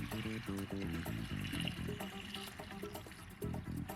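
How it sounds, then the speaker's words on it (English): Water runs steadily into a bowl, a continuous pouring trickle with background music playing throughout. "get a bowl and fill it up with cold water"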